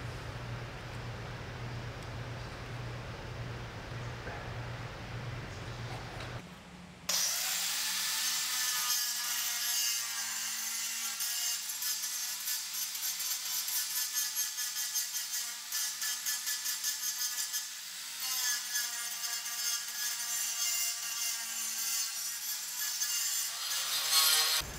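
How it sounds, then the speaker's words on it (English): A grinder cutting out grout lines in tiled corners: a low steady hum at first, then a loud, harsh, continuous grinding roar that holds close and unbroken to the end. "now that we got our corners grinded out, those grout lines cleaned up"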